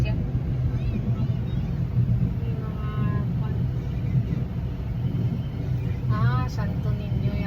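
Street traffic during a parade rumbles as a dense, steady wash of vehicle noise, close and continuous, with occasional horn-like tones and people talking over it.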